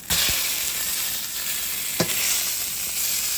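Wild brook trout fillet sizzles steadily in a hot pan just after being flipped, a close, even hiss with a few soft clinks of a utensil against the pan.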